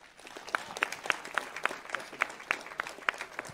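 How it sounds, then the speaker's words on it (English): Sparse, rhythmic clapping from a small crowd at an arm wrestling event, distinct individual claps in a steady beat over faint background murmur. "Can we get a round of applause?"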